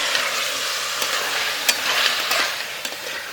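Mutton pieces and fat sizzle in a hot pan for Dindigul biryani, a close, steady frying hiss broken by a few sharp crackles and pops.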